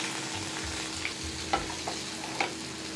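Chopped onion sautés in oil with mustard seeds, cumin, fennel and curry leaves, a quiet continuous fry with a few light scrapes of stirring, heard close and without talk.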